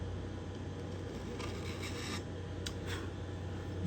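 A sharp hand tool scrapes a purfling channel at a guitar heelcap with short, soft rasping strokes, faint and close, over a steady low background hum.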